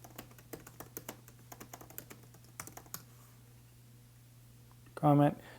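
Rapid keystrokes patter on a computer keyboard as a comment is typed, a quick run of close, crisp clicks that stops partway through, followed by a burst of speech.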